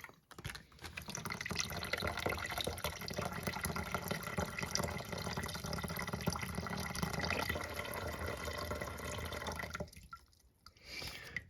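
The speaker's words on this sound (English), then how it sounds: "now we're going to give it a flush with my makeshift flapper." A toilet with a makeshift flapper flushes slowly, sending a steady, fairly quiet rush of water draining and refilling for about ten seconds, then tapering off.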